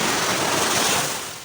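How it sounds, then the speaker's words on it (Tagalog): Fairly large sea waves rolling onto a beach at a resort in San Felipe, Zambales, a close, continuous wash of surf with no voices, easing off at the end. "Medyo malaki-laki yung alon ngayon."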